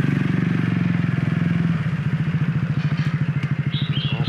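A motorcycle engine idles close by in steady loud pulses on a busy road in Bo Kluea, Thailand, then settles into a slower, throbbing chug.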